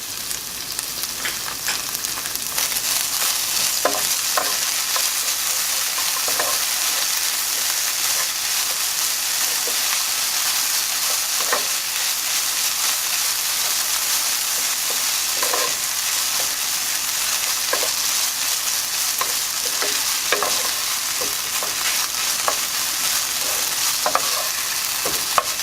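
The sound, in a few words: butter and pepper sizzling in a frying pan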